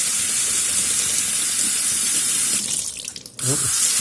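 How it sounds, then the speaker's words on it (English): Water runs steadily from an automatic sensor tap as hands are washed beneath it, a loud broadband rush that briefly thins and drops near the end when the flow is interrupted, then resumes. "You don't have to have the tap running."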